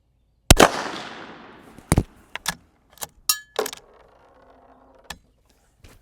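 A Savage B-Mag .17 WSM target rifle fires a single sharp, loud shot outdoors at a target, followed by a fading echo and several metallic bolt and handling clicks.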